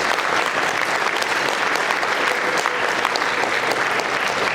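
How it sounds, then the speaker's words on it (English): Sustained, dense audience applause for award nominees at a Hall of Fame luncheon, a steady even roar of many hands clapping with no break. "Please give them a round of applause."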